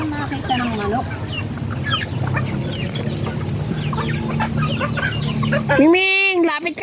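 Chickens clucking close by in a backyard, a steady stream of short calls over a low hum, ending with one louder drawn-out call near the end.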